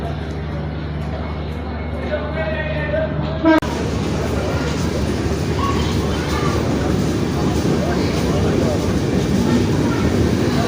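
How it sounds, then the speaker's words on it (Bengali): The Madhumati Express rumbles steadily at Mawa station, a loud, continuous train roar with rattling carriages, while someone narrates over the first few seconds before the sound opens up fully. "নির্ধারিত সময়ের মধ্যে আমরা পৌঁছে গেলাম মাওয়া স্টেশনে আমাদেরকে নামিয়ে দিয়ে ট্রেনটির গন্তব্য এখন ভাঙা হয়ে রাজশাহী"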